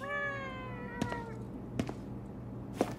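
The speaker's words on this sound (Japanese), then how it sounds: "おい、なんだあの猫また。" Nekomata cat yokai from the video game Ghostwire: Tokyo, giving a long drawn-out meow that fades over a low hum, followed by a few soft thuds.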